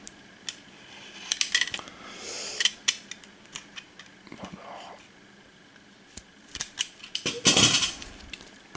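Card game packaging being hacked open with a blunt cutter, a scattered series of scraping, snipping and crinkling bursts at close range, irregular and fairly quiet, with a louder rustle near the end and no talking.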